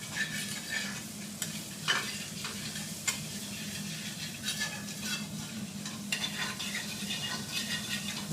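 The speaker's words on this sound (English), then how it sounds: "I'm going to cook the garlic on." Chopped garlic frying in a pan for aloo tikki chaat, a soft, steady sizzle under repeated close scraping of a spoon against the pan, with no talk.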